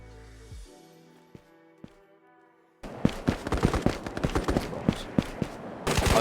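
Rapid gunfire from the Ghosts of Tabor video game pours into the Collector enemy, a dense, loud burst of overlapping shots that starts abruptly after a quiet, hum-filled opening.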